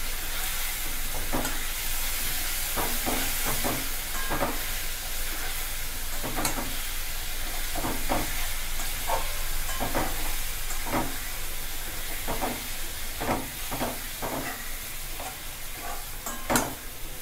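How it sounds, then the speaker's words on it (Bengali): A spatula scrapes and stirs raw banana kofta curry masala in a sizzling pan, sharp repeated clacks at an irregular rhythm over a constant close hiss of frying, with no voices. "এটাকে একটু কষে নিচ্ছি।"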